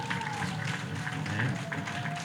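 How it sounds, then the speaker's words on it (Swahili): An audience applauds at a regional investment event in Iringa, a steady wash of many hands clapping throughout, moderately loud and even, with a faint tonal hum underneath. "tunawapigia makofi mengi sana sisi kwa kuja na kuwa sehemu ya jambo hili"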